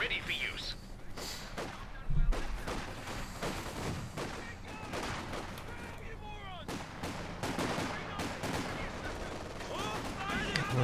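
Machine gun bursts and scattered gunfire in a Company of Heroes 2 World War II strategy battle, steady rattling volleys with occasional heavy thumps of artillery throughout, while a commentator talks over the action.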